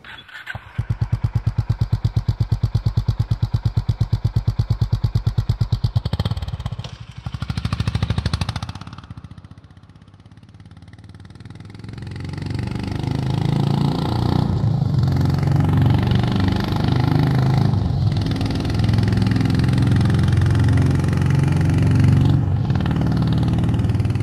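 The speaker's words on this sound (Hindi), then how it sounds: "उसका एग्जॉस्ट नोट या फिर उसका जो थंप इंजन से सुनाई देता है" A Honda H'Ness CB350 motorcycle engine idles with a rapid, even exhaust thump, then revs up and settles into a deep, loud rumbling drone close by.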